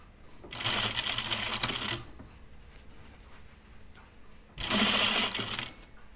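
A sewing machine stitches a seam on a Lucerne blouse in two steady bursts of rapid, even stitching, each lasting over a second, separated by a quiet pause.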